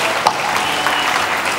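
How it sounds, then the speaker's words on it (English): Brief burst of audience clapping at a tribute night held in a dome hall, steady and fairly loud throughout with no talk over it. "Let's keep clapping for them."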